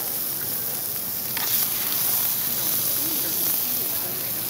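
Sesame-crusted tuna sears in a hot pan with a steady, close sizzle and hiss, swelling briefly as the fish is flipped over onto its other side.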